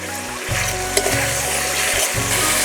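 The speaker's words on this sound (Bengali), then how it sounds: "এই মশলাটুকু একটু ভেজে নিলাম।" Spices sizzle steadily in a hot pan while cooking for a vegetarian aloo dum, a close, continuous frying hiss with a low electrical hum pulsing underneath and a couple of small clicks.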